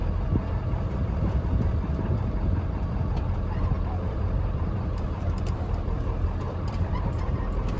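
A lifted truck's engine rumbles steadily and loudly from start to finish as it pulls out of a driveway, a constant low drone with no pauses and no talking.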